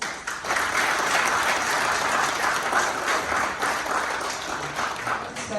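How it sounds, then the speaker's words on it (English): A theater audience at the Sheen Center bursts into sustained applause to welcome a speaker, the clapping thick, even and close from start to finish. "let's welcome her with a huge round of applause"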